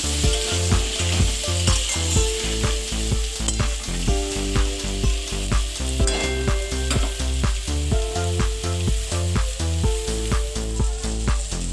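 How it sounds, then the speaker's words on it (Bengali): Potatoes with turmeric powder frying in a pan, a steady loud sizzle broken by a regular rhythm of scraping stirring strokes, with no voices. "একটু হলুদের গুঁড়ো, আলুগুলো ভালো করে নাড়াচাড়া করে নিচ্ছি।"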